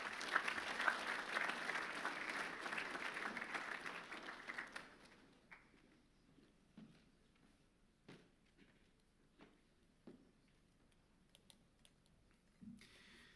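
Applause from an audience at a school assembly, a dense steady clapping for about five seconds that then thins out into a few scattered claps and shuffling noises.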